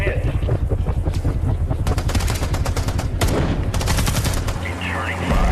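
Rapid bursts of gunfire in a movie battle scene, dense machine-gun volleys and single shots rattling almost continuously, loud and close, with a low rumble underneath.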